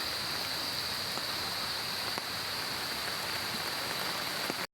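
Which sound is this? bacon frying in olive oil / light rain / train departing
light rain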